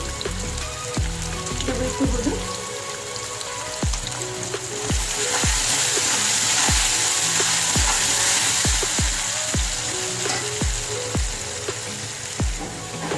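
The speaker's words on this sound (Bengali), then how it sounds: "আলুটা ভালো করে ভেজে নেব আমি আলুটা একটু নুন হলুদ দিয়ে ভেজে নেব" Potato pieces with salt and turmeric fry in hot oil in a loud, constant crackling sizzle, with a spatula knocking and scraping against the pan at a steady rhythm of about one stroke per second.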